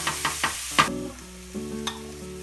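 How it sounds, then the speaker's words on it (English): Spinach frying in a pan: a few quick scraping stirs and taps at the start, then a softer sizzle with a low hum, ending in a couple of faint clicks. "have to fry the spinach a little bit"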